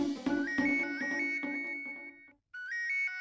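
A phone ringtone plays a repeating melodic electronic tune, loud and close, cutting off briefly and then starting again, with no talking over it.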